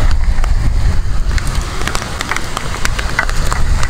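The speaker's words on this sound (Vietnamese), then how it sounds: "Bây giờ mới thật sự là nghe tiếng mưa rơi." Steady rain falls on a street on the outskirts of Saigon in the afternoon: a dense, continuous hiss with scattered close drop splashes, heard alone and fairly loud.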